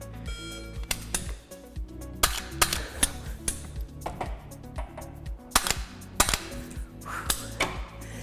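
Rapid rifle shots from a Sig MCX during a range drill, a dense series of sharp cracks in irregular quick bursts, close and loud with no talking.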